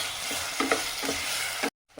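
Tomatoes sautéing in a pan with onion, ginger and garlic for channa masala, giving a steady close sizzle broken by spoon stirring and scraping, then a brief silence near the end.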